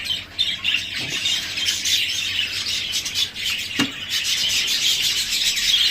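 Pet birds and their young chicks squawk and chirp continuously in a breeding cage, a dense, shrill chorus of overlapping calls close by with no talking.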